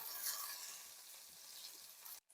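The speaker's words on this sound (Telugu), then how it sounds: "ముందుగా కట్ చేసుకున్న బెండకాయలు నూనెలో వేసి" Cut okra pieces frying in hot oil in a wok, a steady bright sizzle filling the clip before cutting off abruptly near the end.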